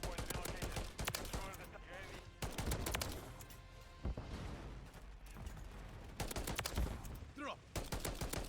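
DM 56 rifle shots in Modern Warfare 3 crack out in loud, sharp bursts and rapid single reports, several clusters separated by short gaps, with in-game sounds filling the spaces between.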